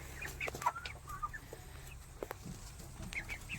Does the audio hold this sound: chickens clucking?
yes